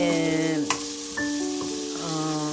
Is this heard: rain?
no